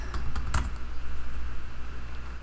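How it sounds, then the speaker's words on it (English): Computer keyboard typing while entering a search term in design software for an Easter bunny craft sign, a few quick clustered keystrokes early on, close and fairly soft over a steady low hum, no talk. "I am going to just type in Easter egg"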